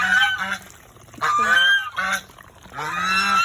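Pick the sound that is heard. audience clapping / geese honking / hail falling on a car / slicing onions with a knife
geese honking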